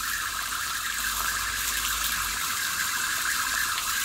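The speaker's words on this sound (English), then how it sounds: "I'm using hot water." Hot water gushing steadily from a hot water attachment outdoors during a Kawasaki KE175 motorcycle restoration, a continuous close hissing rush with no talk.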